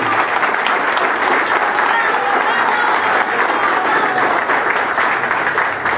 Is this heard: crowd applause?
yes